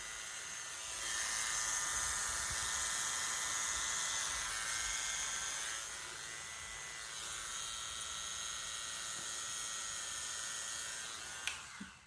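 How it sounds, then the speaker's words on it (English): Electric razor shaving hair, a continuous close high-pitched buzz that holds steady for about twelve seconds, a little louder at first, then ends with a couple of small clicks. "So I need to shave this with a razor."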